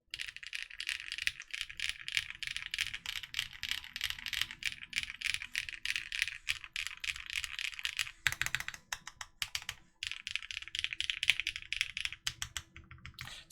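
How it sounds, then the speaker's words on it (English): Rapid, steady typing on a Vertex Seal Cosmos Edition full-size mechanical keyboard, dense clacky keystrokes close up with a couple of short pauses, no voices. "Let's pause the music and do a really quick typing test, so you guys can see what it sounds like."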